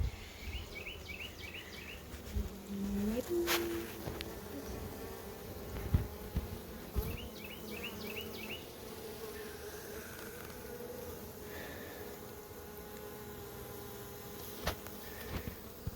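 Honey bees hum around a honeycomb rich with sugar, a soft steady drone with passing buzzes drifting near and far, joined by a few faint chirps and light knocks.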